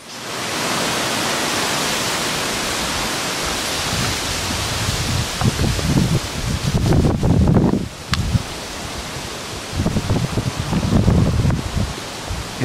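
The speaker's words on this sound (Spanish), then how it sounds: "Escuchen lo rico que es el sonido del viento entre los árboles." Broadband wind sweeping through the forest canopy at the Calakmul archaeological zone near Xpujil, a steady rustling wash with a few louder gusts and faint thumps, no voices.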